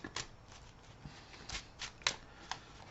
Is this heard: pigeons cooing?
no